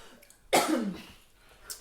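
A single sharp cough, close and fairly loud, trailing off into a brief rasp, with a faint breath afterward.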